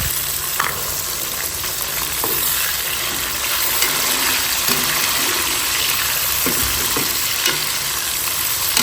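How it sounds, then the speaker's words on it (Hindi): Tomatoes dropped onto browned onions in a frying pan bring a loud, continuous sizzle with scattered spatters and knocks, close up and without talk. "अब टमाटर डाल रहे हैं।"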